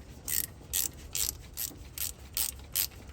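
A hand ratchet tightens a rusty bolt near an exhaust flange in a series of crisp, rhythmic clicking bursts, about seven even strokes, close and clear with no talking.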